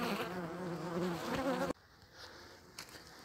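Honeybees buzz at an open beehive, a close, dense droning hum that cuts off abruptly partway through, leaving faint background noise.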